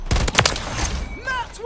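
Rapid bursts of gunfire crackle in a military shooter video game, loud and dense at first, then fading into a steady din with a few whistling effects near the end.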